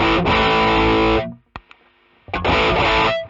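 Heavily distorted electric guitar chords ring out loud and saturated, break for a moment of near silence with a couple of small clicks, then crash back in.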